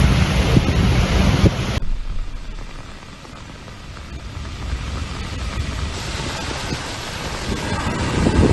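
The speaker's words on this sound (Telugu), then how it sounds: "భారీ వర్షం కురుస్తోంది, కంటిన్యూగా కురుస్తోంది." Heavy, continuous rain pouring over Delhi, a dense steady hiss of rainfall that stays loud throughout, with a brief louder wash at the start and no voices.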